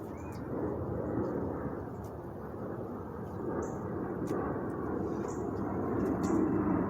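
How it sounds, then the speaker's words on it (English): Low-flying airplanes pass overhead at night with a broad, sustained roar that swells and fades slowly. "those planes are flying low tonight"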